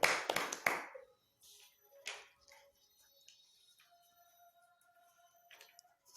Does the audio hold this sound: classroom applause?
yes